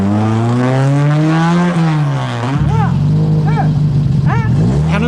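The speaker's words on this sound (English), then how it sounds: "The second car, waved away by Prince Sidi Mohammed, was Aaltonen's Fiat." Aaltonen's Fiat rally car leaves the start of the 1973 Rabat to Casablanca rally, its engine rising in pitch through the gears with sharp shift drops, loud and close, then continuing to rev hard as it pulls away.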